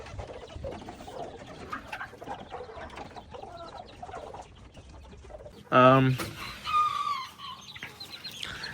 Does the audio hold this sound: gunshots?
no